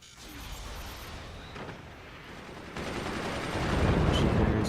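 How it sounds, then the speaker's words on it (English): Machine gun fire in the fort-building strategy game Forts, a steady chatter of rapid shots that grows louder and denser toward the end, with no talk. "Machine gunners are online."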